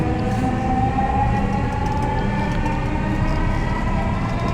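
Dhaka metro rail train running, a loud steady rumble with a droning tonal hum that holds evenly from start to end, close and continuous with no talk.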